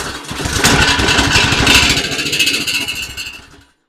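A Craftsman snowblower engine on regular gasoline catches after a pull and runs roughly for about three seconds, a loud, close, pulsing putter that cuts out abruptly into silence.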